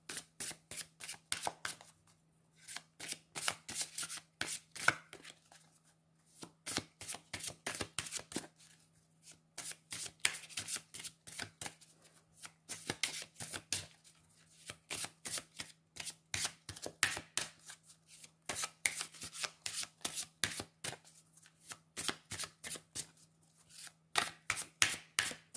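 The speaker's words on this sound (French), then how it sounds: "Donc je vais mélanger les cartes." Tarot cards shuffled by hand, a long series of crisp riffling bursts with short pauses between them, close and fairly quiet, with a faint steady hum underneath and nobody talking.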